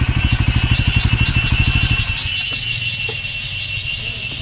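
A motorcycle engine runs close by with a fast, pulsing rhythm for about two seconds, then drops to a smoother, quieter idle with a steady hiss and a few faint clicks.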